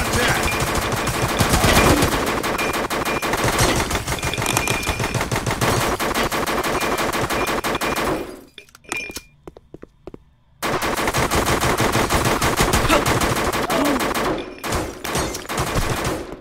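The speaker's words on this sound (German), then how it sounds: "Blind schießen bringt echt was?" Rapid automatic gunfire in the VR shooter Mercenaries VR rattles loudly and almost continuously. A short lull with a few scattered shots breaks it before the heavy firing resumes.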